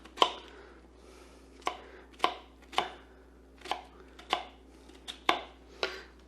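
A knife chops peppers on a cutting board in about a dozen sharp, close knocks at an uneven pace, with short pauses between the cuts.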